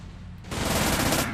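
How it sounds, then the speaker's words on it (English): A short burst of rapid gunfire from a handgun in the Sam & Max game Abe Lincoln Must Die breaks in after a brief quiet moment and rattles loudly to the end. "My gun just isn't big enough to stop him."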